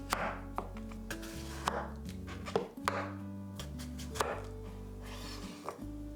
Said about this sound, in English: Cut the daikon radish in 4 cm circles.